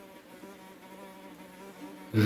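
A housefly buzzes close by with a steady, thin droning hum that lasts a couple of seconds before a louder burst at the very end. No one speaks.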